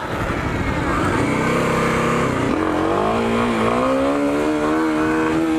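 A Kawasaki KLX 250 motorcycle engine revs loud and close, holding a steady buzzing drone and then rising in pitch as the throttle opens, with no voices over it.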